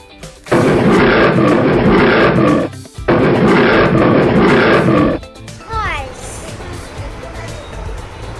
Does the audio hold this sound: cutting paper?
no